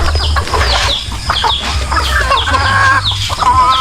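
Chickens on a farm cluck and squawk loudly and close by, in busy overlapping calls with a few longer crowing-like notes, and no one speaks.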